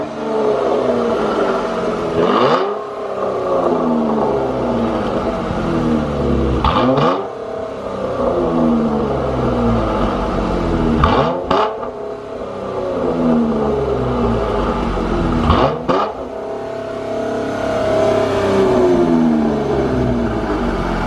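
A Dodge Challenger V6 SXT 3.6L fitted with a Borla ATAK exhaust accelerates hard through repeated gear pulls, each rising growl broken by a brief shift dip, heard loud from inside the car without talk.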